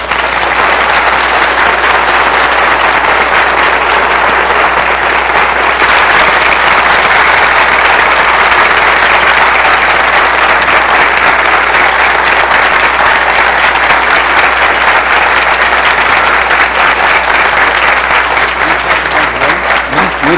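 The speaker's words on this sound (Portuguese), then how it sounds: "Muitos aplausos." Dense, steady applause from a lecture audience fills the whole stretch without a break, loud and continuous, with a brief lift in intensity partway through.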